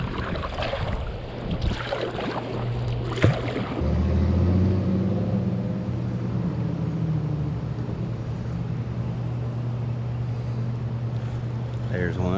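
A fishing boat is paddled on the water at Center Hill Dam, giving a low steady rumble and wash with a few splashes and knocks, along with wind noise and some talking.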